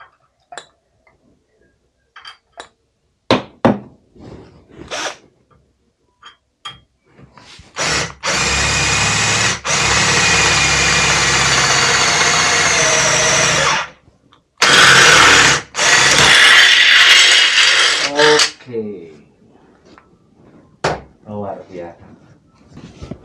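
A DongCheng power drill with a 9.5 mm bit runs loud in two long bursts, stopping briefly between them, with clicks and handling noises before and after.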